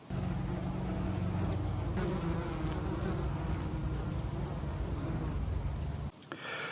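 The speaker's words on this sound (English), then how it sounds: "you've got a couple of bees on them now" Bees buzz steadily around flowers in a summer garden, a continuous near drone that holds for about six seconds before cutting off abruptly.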